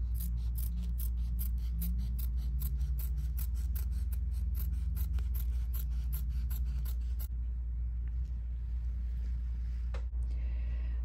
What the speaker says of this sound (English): So just trim your batting close to your stitch line.